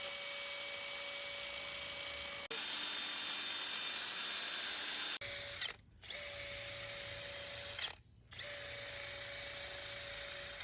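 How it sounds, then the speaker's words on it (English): A power sander drones steadily across a wooden halfpipe ramp with a loud, constant whine, cutting out briefly twice near the end before starting up again. "Ramp's getting sanded down."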